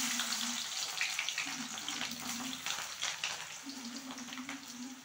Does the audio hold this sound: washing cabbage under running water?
yes